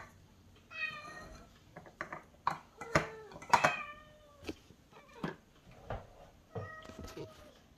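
Several cats meow repeatedly while waiting to be fed canned cat food, with clear close meows spread across the clip and a few light knocks and thumps between them.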